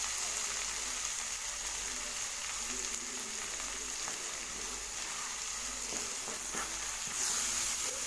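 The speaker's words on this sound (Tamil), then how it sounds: "தக்காளி நல்லா வதங்கணுங்க. தக்காளி வதங்கிறதுக்காக உப்பு ஆட் பண்ணிக்கலாங்க." Tomatoes sautéing with salt in a pan for Tamil-style sambar rice give a steady, moderate sizzle with soft crackles and occasional scraping stirs close by, with no one speaking.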